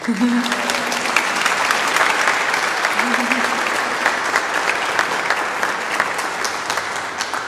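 Sustained, dense applause fills a church recital hall after a solo performer's set for Ukraine, a steady wash of many hands clapping throughout, with a faint voice briefly audible beneath it.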